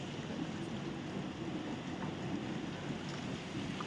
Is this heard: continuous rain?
yes